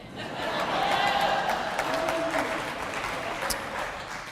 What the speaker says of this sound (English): I think it's strange that you're cheering for that.